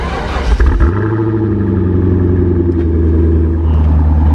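A high-mileage Corvette C5 V8 cold-starts with a loud cranking burst, then settles into a steady, deep, rumbling idle that holds close and continuous to the end.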